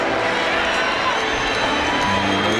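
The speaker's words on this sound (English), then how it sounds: "Big crowd here at Comiskey for a Sunday afternoon, rather chilly." A big Sunday-afternoon baseball crowd at Comiskey Park on a chilly day, giving a steady, dense roar of cheering and chatter that holds for a few seconds.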